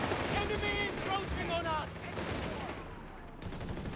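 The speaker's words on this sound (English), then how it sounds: "Lines going there firing away, they're bombarding American positions with reasonable precision" Gunfire and bombardment in the Company of Heroes 3 strategy game, a crackle of rapid shots and muffled blasts at a moderate distance, running under a talking voice.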